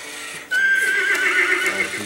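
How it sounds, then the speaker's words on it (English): A toy horse gives a short, bright electronic neigh, a single close whinny lasting over a second amid quiet household background. "Does the horsey say anything?"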